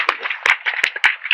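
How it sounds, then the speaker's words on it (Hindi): Audience clapping after a devotional bhajan performance, a few sharp irregular claps, close and moderately loud, with no talk over them. "एक बार जोरदार ताली सबके लिए।"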